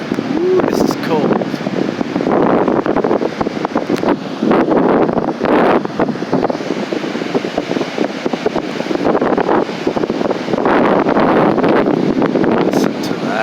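Strong wind roars across a stormy Pacific Ocean beach with surf washing in, a loud continuous gusting rush with buffeting against the microphone and surging swells, while a person talks over it at times.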